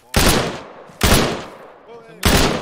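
Three sharp, loud gunshots ring out in the military shooter game Arma 3, roughly a second apart, each with a short decaying echo; a faint voice murmurs between them.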